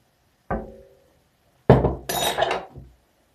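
A spoon clinks once against a dish of yeast pancake batter, then after a pause scrapes and clatters briefly against it, close up.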